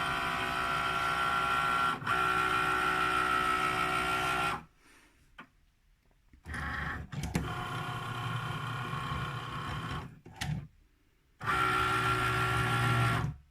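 A Cricut cutting machine scores a line into card for foiling, giving a steady mechanical whirring hum that breaks off into short pauses and quiet spells before resuming at full level, close and alone.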